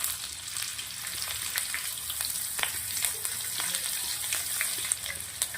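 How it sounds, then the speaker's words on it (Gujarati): Mustard seeds, cumin and asafoetida sizzling in hot oil for a Rajasthani red curd tempering: a dense, even crackle with frequent tiny pops and spits, close and steady throughout. "તેલ ગરમ થઈ ગયું છે થોડું રાઈ જીરું નાખું છું થોડી હિંગ નાખું છું"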